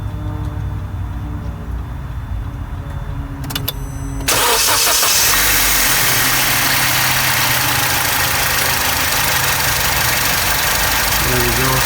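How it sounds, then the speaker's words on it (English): A Vauxhall Corsa D with an oil pressure switch problem cranks briefly, then its engine catches and settles into a loud, steady close-up idle that continues to the end. "I'm gonna turn the engine on."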